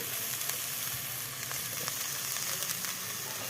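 Chopped onion, spring onion, cabbage and carrot fry in a pan for momo filling, a steady dense sizzle with faint crackles throughout.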